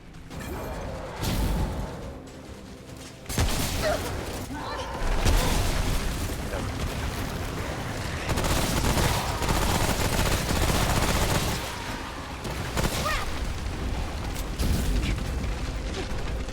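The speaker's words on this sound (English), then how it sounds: "The SMG I should use for this." Sustained SMG gunfire in the video game Remnant: From the Ashes, with dense rapid bursts of shots mixed with booms and mechanical game sounds, loud and continuous through most of the stretch.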